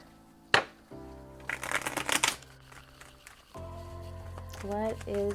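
A quick burst of tarot cards being shuffled and riffled, with soft music playing in the background.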